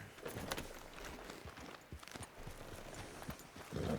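A horse in the Western video game Red Dead Redemption 2 walks with soft, irregular hoof thuds, faint and close, amid low background noise, with a slightly louder burst near the end.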